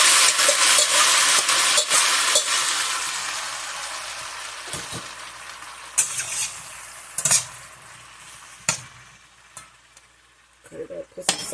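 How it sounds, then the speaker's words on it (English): Mushrooms and onions sizzle loudly as they drop into a pot of hot olive oil, a dense frying hiss that eases over time, broken by sharp clinks of a utensil against the pot. "I have my pot heated with some olive oil, and I have my mushrooms and onions. I'm just gonna put those in"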